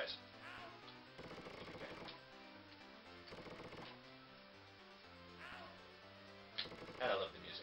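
Game music for Earthworm Jim plays under rapid bursts of video game gun shooting that crackle several times, with a voice speaking briefly.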